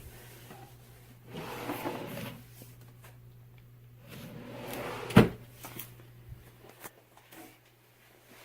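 Storage drawers in an art studio slide and bump open and shut, with a sharp thud midway and softer scraping and clicks around it, close and otherwise quiet.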